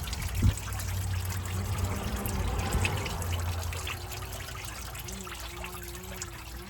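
Coolant drains from a Detroit Series 60 diesel engine during a water pump replacement, a steady close trickling stream that runs continuously over a low background hum.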